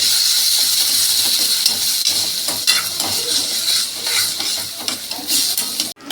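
Dal fry stirred in a pot over the heat, a loud steady sizzle and hiss with repeated scraping strokes of a spoon against the pot, close up and with no voices.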